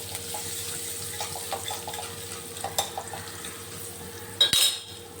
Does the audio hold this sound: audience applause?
no